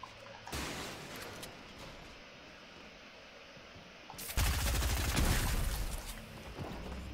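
Shotgun blasts in Fortnite, a few sharp reports amid a rattling burst of game gunfire that swells loudly midway, with background game noise throughout.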